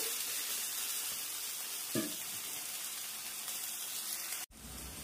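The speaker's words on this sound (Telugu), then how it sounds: "ఇప్పుడు వంకాయ ముక్కలు కూడా వేసినాక మనం ఒకసారి కలిపి కొంచెం మగ్గబెడదాం వీటిని" Eggplant pieces sautéing in a pan give a faint, steady sizzle throughout, with a single soft stir near the middle before a sudden break near the end.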